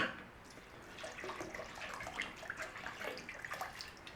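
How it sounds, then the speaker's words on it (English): Cold water runs steadily into an Instant Pot liner over a beef joint for corned beef, a close, soft continuous pouring and splashing with faint gurgles throughout. "we want enough cold water to cover the meat"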